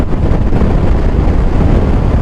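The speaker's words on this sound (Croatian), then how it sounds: "ovaj vjetar nas ubija, znači cijeli dan" Strong wind buffeting a microphone during a motorcycle ride, a loud, continuous low rumbling roar with no voices.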